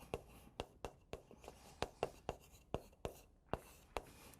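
Writing on a board during a Korean civil law lecture: a steady series of crisp tapping strokes, around fifteen, evenly paced and quiet, with no voice heard.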